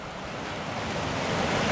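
Ocean waves wash onto a beach in a steady broad roar of surf that swells slightly louder toward the end, with wind buffeting the microphone and no talking.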